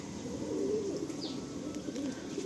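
A male Madrasi Andhra pigeon, a rare bird held by a fancier in Garia, Kolkata, gives a brief low throaty coo, with a single faint higher chirp cutting in over a constant background hum.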